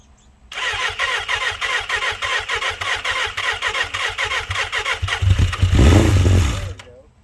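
A lowered 2006 Suzuki Katana motorcycle engine cranks over with a rapid rhythmic starter chatter for several seconds, then catches and fires into a louder, rougher roar near the end, recorded close up.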